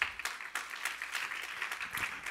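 A church congregation claps during a sermon, a moderately faint, rhythmic patter of hands with distinct beats, heard alone without talk.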